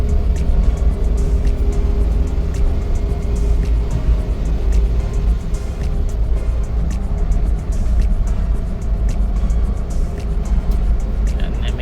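A Suzuki DA17V van with a 4x2 Tiptronic AGS gearbox accelerates along a road, giving a steady, loud engine drone and road rumble heard from inside the cabin, with other traffic nearby.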